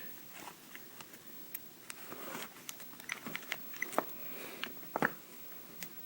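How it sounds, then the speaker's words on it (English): Turning the lens of a Fuji X10 camera to power it on produces faint, quiet mechanical clicks and small handling rustles, scattered and close in an otherwise hushed room. "To turn it on, you just simply turn the lens."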